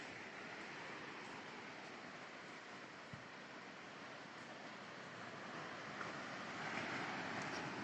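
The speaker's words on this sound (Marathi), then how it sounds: "आता हे लाटा थोड्या पुढे पुढे येत आहेत." Steady broadband surf washes continuously on a beach as the tide comes in, waves rolling and breaking nearby with a faint whistle of wind, no voices.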